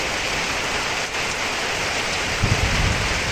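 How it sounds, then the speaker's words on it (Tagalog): Heavy rain pours down in a dense, steady hiss, with a few heavier low thumps near the end. "Naulan na naman."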